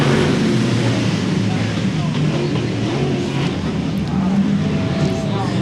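Race cars running a heat race at RPM Speedway, a dense continuous engine roar with a broad rumbling wash, loud and steady, with an announcer talking over it.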